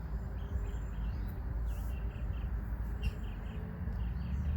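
An agitated bird calls outdoors in Baltimore, a few short, faint chirps scattered over a steady low rumble of outdoor background noise.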